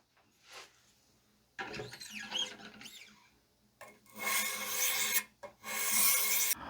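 Knife edge being polished on a 1500/2200 grit stone in a Wicked Edge guided sharpener: rasping strokes in uneven bursts, starting soft and growing into longer, louder passes close by.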